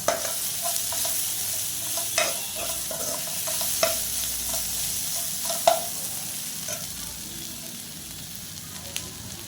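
Green chillies and ginger garlic paste fry in a pan for coconut rice, giving a steady sizzle broken by repeated sharp scrapes and clinks of stirring, close and clear, with no talking.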